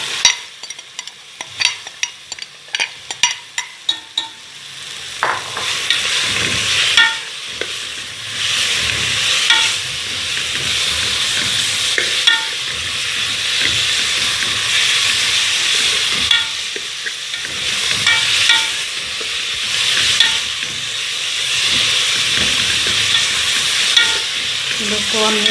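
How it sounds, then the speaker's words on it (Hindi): Minced meat sizzles in a pan with onions while a spoon scrapes and stirs with quick clattering strokes at first, then a steady loud frying hiss continues, close up, with no talking. "कीमे को हमने प्याज में 1-2 मिनट बस भून लिया।"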